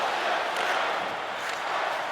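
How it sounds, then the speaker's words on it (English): A hockey arena crowd in the NHL 23 video game boos a visiting player, a dense, steady wall of jeering crowd noise that holds at an even, fairly loud level throughout with no clear pauses or voices standing out. "Zibanejad's really hearing it from the crowd here. They're not happy with him."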